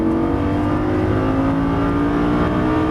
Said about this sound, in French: Là, on accélère, on élargit, vas-y, gaz à fond